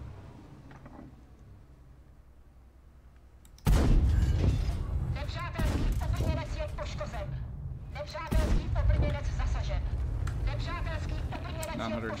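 Tank cannon shots and explosions ring out in a World of Tanks battle, a quiet stretch first, then a sudden loud boom followed by repeated heavy blasts and rumbling combat noise at roughly even spacing.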